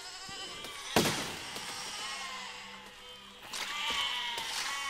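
Sheep in the video game Besiege bleat several times at mid distance over a steady game background, with a sharp pop or impact partway through.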